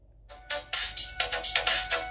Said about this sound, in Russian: Звонок, если вам кто-то позвонил, вы не пропустите.